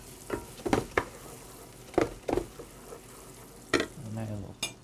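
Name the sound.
garlic sizzling as it is tossed into a pan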